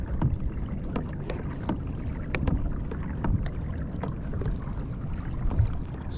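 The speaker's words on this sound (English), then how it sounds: "I hear the water lapping the side of the kayak." Water laps against the hull of a kayak at a quiet boat ramp. Soft, irregular splashes and small knocks come close to the boat over a steady low wash, with no voices.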